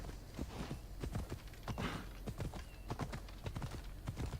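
A horse in Assassin's Creed Odyssey trots with rhythmic, close hoof clip-clops, broken by a brief whinny partway through, the footfalls steady and prominent throughout.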